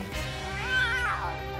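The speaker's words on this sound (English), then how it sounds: "Did I hear some grumpy meows?" A cat lets out a drawn-out, grumbling meow up close, rising and falling in pitch like a complaint.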